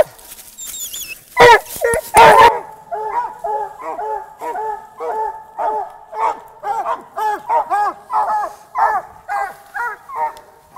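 A sport dog at a squirrel search competition barks and yips repeatedly in an excited, rhythmic series, close and loud, with a brief handler voice near the start.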